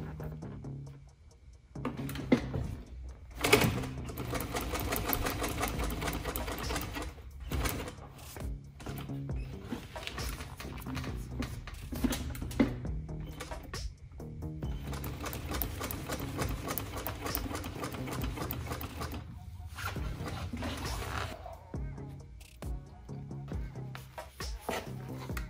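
Sewing machine running in long continuous bursts while stitching lines on a custom Harley-Davidson Fatboy motorcycle seat, loud and close with brief pauses between runs.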